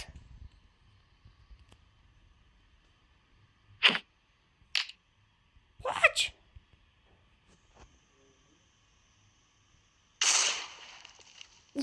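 A handful of sharp TNT blasts in Minecraft ring out against a quiet background, spaced a second or two apart, with the last explosion longer and rumbling as it fades.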